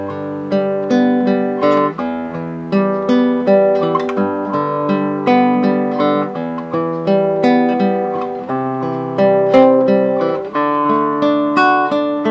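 An acoustic guitar plays the first part of a song in G, alone and close: plucked chord tones ring out and decay in a steady, gently rhythmic pattern of repeated strums and arpeggios.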